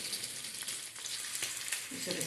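Chili chicken fries in a pan in a home kitchen, a steady, soft sizzle crackling continuously at close range, with a faint stirring sound near the end.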